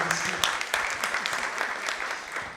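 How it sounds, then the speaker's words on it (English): Audience applause at a real estate leaders' conclave and awards event in India, a dense, steady wash of many hands clapping for the full stretch at moderate level, with no voices on top. "Can I have a round of applause"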